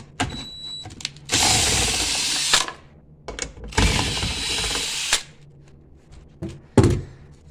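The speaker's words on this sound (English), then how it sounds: "Okay, so for this we're going to use an impact." Impact wrench removing a 10 millimeter bolt on a Nissan Armada, two loud sustained bursts of buzzing hammering, each about a second long, close up and separated by lighter clicks and handling noises.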